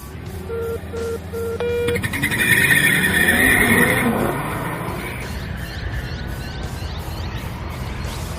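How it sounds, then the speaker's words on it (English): A turbocharged Holden Commodore SS or Ford Falcon XR6 Turbo launches off the line, engine roaring and revving loudly to a peak, then a steady road and engine drone with a faint tire screech mixed in. "it allowed the turbo to build up the maximum boost and launch without wheel spin"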